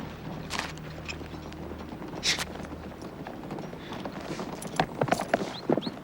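Horses' hooves clip-clopping on the ground, a continuous jumble of overlapping hoofbeats from several animals at moderate distance, with a few sharper knocks and clatters near the end.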